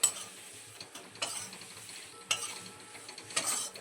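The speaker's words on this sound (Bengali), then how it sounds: "এবারে আমরা এসেন্সটা খুব ভালোভাবে ছানার সঙ্গে মিশিয়ে নেব" A spoon stirs essence into soft chhana curds in a pan while making raw mango kalakand, making a few short scraping, mechanical-sounding strokes close up, with no talk.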